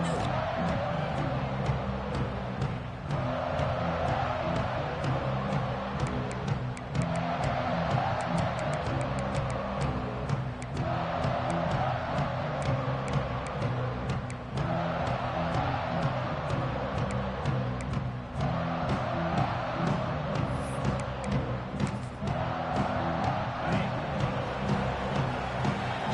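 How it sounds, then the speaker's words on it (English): Stadium crowd at a Georgia Tech vs Pittsburgh college football game, a dense, loud, continuous roar that swells in repeated waves throughout, with no break in the noise. "with this place rocking, the crowd forces a false start"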